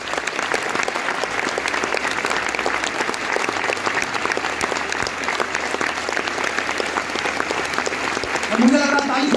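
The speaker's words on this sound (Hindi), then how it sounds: "मैं चाहता हूं खड़े होके इन दोनों तीनों के लिए मेरे दोस्तों एक बार जोरदार ताली बजाएं।" Indoor anniversary event audience giving sustained loud applause, a dense steady wall of clapping throughout that swells slightly at the end.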